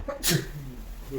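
A single sharp sneeze bursts out near the start, close and fairly loud, with faint indoor murmur and a bit of talk around it in a shop.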